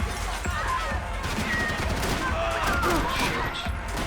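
Gunfire in the Max Payne video game, a rapid cluster of sharp shots and impacts crackling over a dense, continuous game soundscape for about four seconds.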